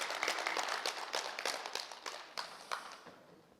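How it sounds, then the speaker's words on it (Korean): Scattered audience clapping at a tea-culture leaders' training seminar, a brief run of distinct, fairly faint claps that thins out and fades within a few seconds. "박수 한번 해드립시다"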